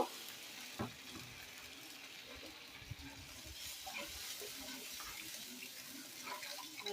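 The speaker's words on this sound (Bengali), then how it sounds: "এক বাটি জল দিয়ে মশলাটাকে ফুটিয়ে নেব" A bowl of water goes into cooked-down spice paste in a hot pan, giving a soft, faint hiss and bubbling sizzle with light stirring, low and steady throughout.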